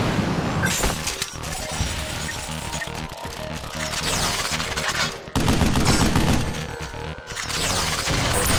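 Sustained bursts of weapon fire from the Vanquish video game, loud and dense with rapid cracks, crashing impacts and shattering debris, with a brief pause near the middle before the barrage resumes.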